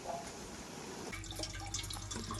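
A thin stream of water trickles steadily into a water pot, a faint, close splashing that brightens and fills out partway through, with no voices.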